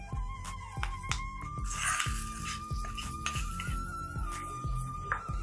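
A spoon stirs and scrapes through a quick weight-loss lunch dish in a metal pan with the stove switched off, giving repeated sharp clinks and knocks against the pan in an uneven rhythm, close and clear, with no voices.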